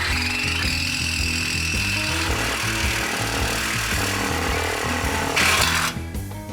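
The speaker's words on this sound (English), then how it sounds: "This stainless is very hard on saw blades. 2 saw blades destroyed trying to remove this Y pipe." A power saw cuts through a stainless steel exhaust Y pipe on a supercharged truck, grinding loudly and steadily for several seconds with a harsh rising burst near the end and no talk.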